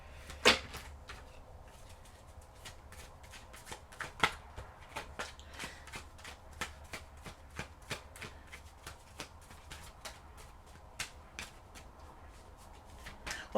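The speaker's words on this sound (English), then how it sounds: "Let me get the rest of your tarot cards here before I get into this" Tarot cards being handled and shuffled close by, a long run of quick, crisp riffling snaps and soft slaps that continues steadily throughout.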